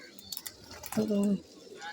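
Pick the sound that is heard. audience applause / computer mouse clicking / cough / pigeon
pigeon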